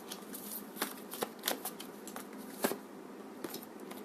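Tarot cards being shuffled during a reading, a soft, steady rustle broken by scattered crisp snaps and flicks, close and fairly quiet with no voices.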